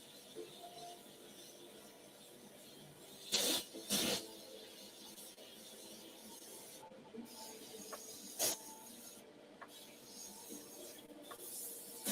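Airbrush spraying paint onto a red dragon miniature, faint close hissing with a few short sharper bursts of spray over quiet background noise.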